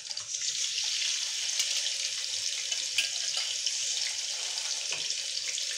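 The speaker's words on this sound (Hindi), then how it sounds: "तो ऑयल गर्म हो चुका है तो अब हम लोग इसके अंदर जो है दाल ऐड कर देंगे।" Chana dal frying in hot oil in a kadhai for spicy namkeen, a steady, loud hiss and crackle that holds evenly throughout with no voices.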